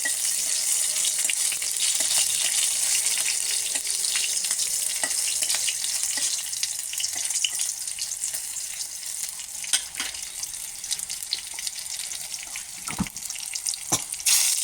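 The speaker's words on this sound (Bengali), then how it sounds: "কাঁচা লঙ্কাটা ভাজা হয়ে গেছে" Green chillies frying in mustard oil in a kadai make a steady, bright hiss that carries on throughout, broken by a few sharp pops and clicks near the end.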